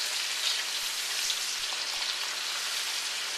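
Green beans frying in hot oil, a steady dense sizzle with fine crackling pops throughout, close and continuous with no talking.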